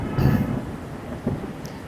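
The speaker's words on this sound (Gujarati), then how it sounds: "ફૂલ વરસાદ છે વાદળા કાળા ડિબાંગ વાદળા છે" Heavy rain with thunder heard from inside a car on a highway trip under dark clouds, a steady broadband wash with a louder rumbling swell near the start and another brief surge later, no talking.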